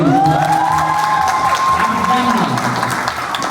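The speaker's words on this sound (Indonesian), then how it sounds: "tepuk tangan dong sekali lagi" Audience applause fills a school hall during a secondary-school stand-up comedy final, with a crowd clapping and cheering loudly as tonal sounds and voices carry over the top throughout.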